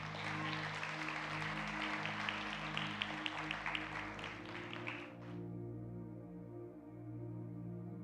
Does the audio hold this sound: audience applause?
yes